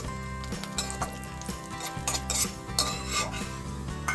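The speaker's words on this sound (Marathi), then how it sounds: "थोडे ड्राय फ्रूट्स भाजून घेणार आहोत आपण तुपात." Dry fruits roast in ghee in a pan, a busy mix of spoon scraping and clinking against metal over a soft sizzle, close and continuous with no talking.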